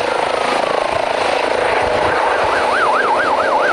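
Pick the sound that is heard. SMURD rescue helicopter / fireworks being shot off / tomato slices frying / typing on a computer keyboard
SMURD rescue helicopter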